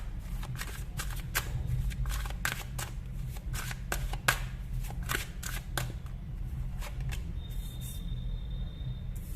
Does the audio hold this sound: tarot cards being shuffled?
yes